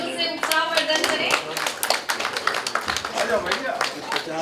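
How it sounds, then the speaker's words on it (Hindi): Audience clapping at a family get-together, a dense run of hand claps throughout with voices audible beneath the applause. "आप सभी से अनुरोध है कृपया जोरदार तालियों से उत्साहवर्धन करें।"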